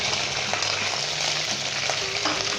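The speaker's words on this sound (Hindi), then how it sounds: "अदरक लहसुन का पेस्ट डालेंगे" Ginger garlic paste frying in hot oil for Lahori chana, a dense continuous sizzle with light stirring scrapes, close and steady throughout.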